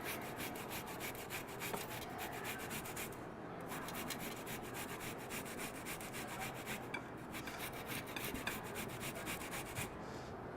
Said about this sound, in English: just gonna grate the daikon